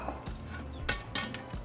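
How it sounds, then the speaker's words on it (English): A metal rack is set into a Walmart steamer pot, giving several close, sharp metallic clinks and clanks with brief rattling, spaced irregularly over under two seconds, with no talking. "Just put the rack on top."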